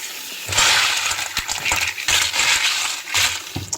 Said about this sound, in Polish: No i wypukujemy zimną wodą.